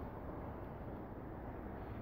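Distant traffic from cars driving constantly, heard outdoors in a forest while mushroom picking, as a steady low broadband hum without pauses, quiet and unbroken throughout.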